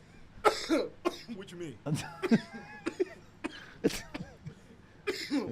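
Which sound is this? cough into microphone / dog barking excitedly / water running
cough into microphone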